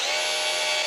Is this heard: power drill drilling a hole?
yes